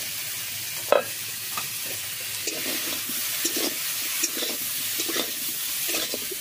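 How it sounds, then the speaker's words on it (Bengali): A cauliflower and duck egg mixture fries in a wok, giving a quiet, continuous sizzle broken by repeated scrapes and pressing taps of a spatula, with one sharper knock early on. "এখন এটা চাপা দিয়ে দিয়ে ভালো করে ভেজে নেব।"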